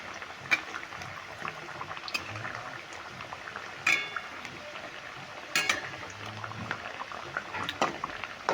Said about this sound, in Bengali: দেখো সমস্তগুলোই লালচে করে ভেজে নিয়েছি